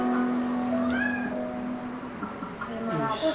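A blue and white Maine Coon cat lets out a drawn, rising meow near the start, followed by quieter calls, close by with faint background noise.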